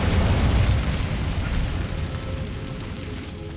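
A Bombarda spell detonates in Hogwarts Legacy, a loud booming blast at the start that rumbles and fades into a lingering low roar over a few seconds.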